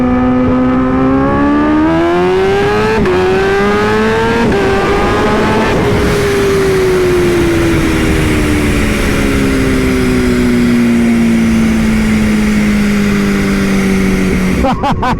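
A 352 hp Kawasaki Ninja H2 motorcycle launching in first gear, its engine screaming loud and close without letup, pitch stepping up early and then slowly sliding down over the run.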